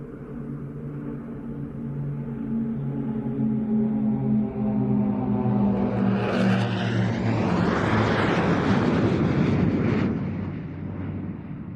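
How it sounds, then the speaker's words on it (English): A Swiss Air Force F-18 Hornet jet roars past on a flyby at an air show, its engine rumble swelling from a distant drone into a loud, sweeping roar that peaks and then fades. "now within a few seconds the F-18 will catch up and they will come back for another flyby"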